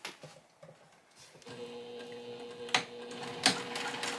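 A sewing machine back-stitches a quartz clutch, with a quiet motor whir and a few sharp mechanical clacks over a soft, low hum.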